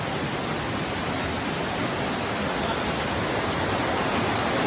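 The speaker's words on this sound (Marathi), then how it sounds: "देवकुंडच्या धबधब्याजवळ" Devkund waterfall, a steady, dense roar of rushing, falling water that fills the whole clip without pause, close and loud with no voices.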